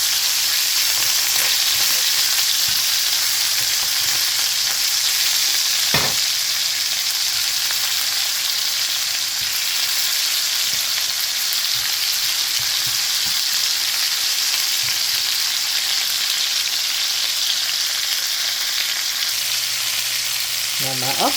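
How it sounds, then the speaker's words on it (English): Oxtail browning in a hot pan makes a loud, continuous frying hiss that holds steady throughout, with a few brief knocks and no speech. "brown the oxtail on both sides"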